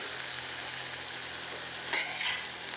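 Okra (bhindi) fries in a pan with a steady, soft broadband sizzle, broken near the end by a brief, slightly louder scrape of stirring against the pan.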